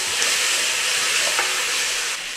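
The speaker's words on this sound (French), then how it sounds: "on va faire revenir avec l'oignon et l'ail pendant à peu près 2-3 minutes" Chopped onion and crushed garlic sizzling in a hot pan, a dense steady frying hiss with a faint stir or scrape partway through, close and loud with no talking.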